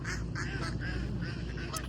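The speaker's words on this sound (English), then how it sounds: "the ducks and the geese have a lot to say right now" Ducks and geese call from close by in a busy run of repeated quacks and nasal honks, loud and overlapping across the whole stretch with no voices.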